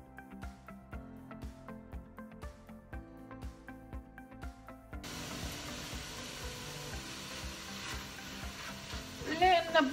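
Onions frying in olive oil and melted butter in a pot on the stove, starting at about five seconds as a steady broad sizzle that grows louder toward the end, after a stretch of light kitchen clatter.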